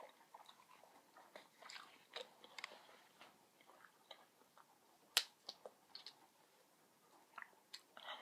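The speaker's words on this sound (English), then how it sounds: "This stuff gets really juicy when you chew it up from being steamed." Someone chews juicy steamed chicken close to the microphone, making a steady run of soft wet chews, smacks and small clicks, with one sharper snap near the middle and no talking.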